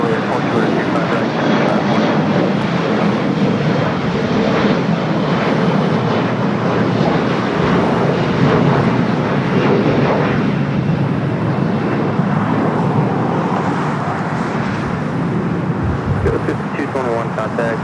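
An American Airlines jet takes off from runway 25 right at LAX, its engines a broad, steady roar that holds loud throughout, with a radio voice talking over it.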